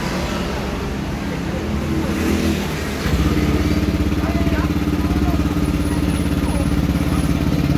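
A fuel-injected motorcycle engine idles steadily nearby after its idle speed control is reset, its low throbbing growing slightly louder and rougher partway through, with faint clatter and no talking.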